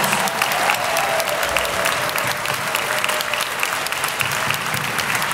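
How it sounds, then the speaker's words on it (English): A large audience at a high school steel drum winter concert claps steadily and warmly for student performers, a dense wash of applause that holds at an even level throughout. "give all of our student performers tonight one big round of applause"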